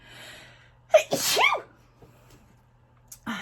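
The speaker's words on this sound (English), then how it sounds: "I feel sneeze coming." A single loud, close sneeze with a sharp intake of breath before it, surrounded by quiet, followed by a brief breathy sound.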